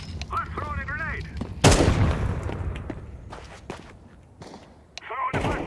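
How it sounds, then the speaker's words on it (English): Grenade detonation in a Counter-Strike match: one sharp, loud blast followed by a rumbling decay, with brief game effects and a player's voice before and after. "I'm throwing a grenade."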